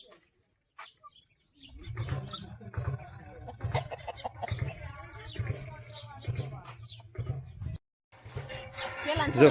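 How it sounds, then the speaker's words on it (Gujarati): Chickens cluck and call close by in short bursts while a person talks over them, with a brief pause before the clucking resumes. "અહીંયા કુકડા છે બહુ જાજા અને કુકડે કુક કરે છે"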